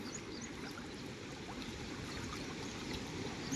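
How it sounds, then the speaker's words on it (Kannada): Lake water spilling down over an outlet, a steady broadband rushing and splashing flow that stays even and continuous throughout, heard fairly close with no voices. "ಇಲ್ಲಿಂದ ಈ ಥರ ನೀರು ಕೆಳಗಡೆ ಬೀಳುತ್ತೆ"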